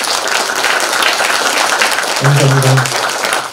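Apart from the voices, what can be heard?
audience applause at arts gala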